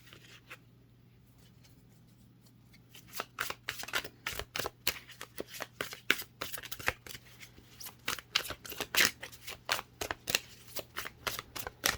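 A deck of tarot cards being shuffled close up, with a quiet start and then a long run of rapid crisp riffling flicks and snaps at an uneven rhythm.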